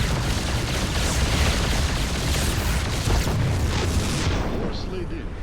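Heavy rumbling boom and blast noise from a Yamato cannon firing in StarCraft 2: Wings of Liberty, a dense, loud, sustained roar of battle effects lasting several seconds before easing slightly.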